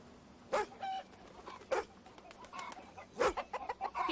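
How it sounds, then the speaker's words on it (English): Chickens cluck and squawk in short, scattered bursts alongside a dog, nearby but faint, with several sharp calls spread over a few seconds outdoors. "Don't you scare those chickens, Dooley."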